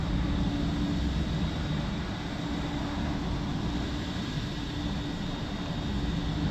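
An American Airlines jet airliner in a flight simulator at Salt Lake City International Airport, its engines giving a steady, even whine and rush with no breaks throughout.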